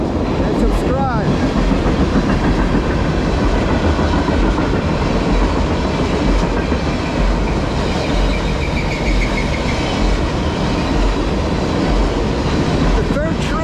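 A CSX crude oil freight train with BNSF locomotives rolls past close by, its loud, continuous rumble and wheel clatter filling the whole stretch, with brief squeals near the start and end.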